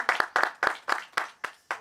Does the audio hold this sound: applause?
yes